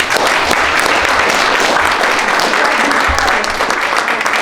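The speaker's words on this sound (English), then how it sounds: "So please give yourselves a big round of applause." Audience at a tech jobs fair giving a big round of applause, a loud, dense and unbroken roar of clapping that fills the hall from start to finish.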